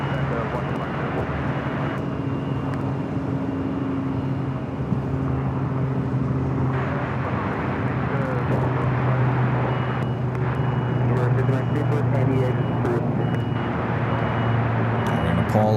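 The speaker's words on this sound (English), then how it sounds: "This A330-200 heading back to JFK. Should stay here on the north side. Should see it take off." An Airbus A330-200 jet airliner takes off from runway 24 left at Los Angeles International Airport, a steady broad engine roar holding at a constant level throughout under radio chatter and a nearby voice.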